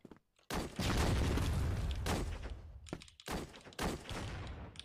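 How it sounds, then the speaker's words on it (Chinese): A grenade blast and bursts of gunfire ring out in the shooter game CrossFire, loud booming explosions followed by rapid volleys of shots that stop and start in clusters, with brief quiet gaps between. "手雷来了"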